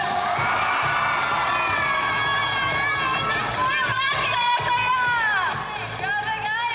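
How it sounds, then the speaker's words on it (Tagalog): A packed crowd of fans at a TV network's mall tour cheers loudly, with high shrieks, whoops and shouting that swell into a continuous roar for the whole stretch. "Dapat pwede po ba akong makarinig ng palakpakan? Na may kasamang hiyawan!"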